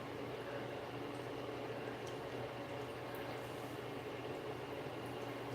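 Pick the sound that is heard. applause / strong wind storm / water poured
water poured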